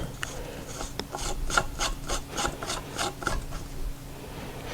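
A faucet mounting piece screwed down by hand onto a bathroom sink gives a steady, rhythmic rasping and ratcheting of threads turning, close and moderately loud, with no voices.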